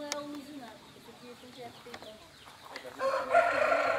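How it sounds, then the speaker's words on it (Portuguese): Two roosters on a Brazilian country farm crow several times at a moderate distance, with clucking hens around them and a burst of rustling noise near the end. "Eu tô vendo dois galos"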